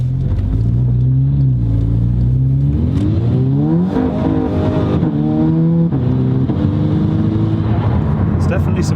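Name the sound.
Volkswagen Scirocco driving on test drive, engine revving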